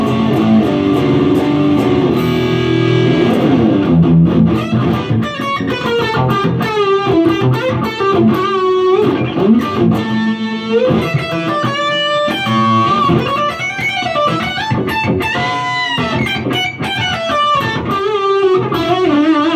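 Heavily distorted electric guitar played through a DiMarzio Illuminator bridge pickup on an upgraded Strandberg, with dense chugging riffs and sustained lead lines, loud and continuous throughout with no talking.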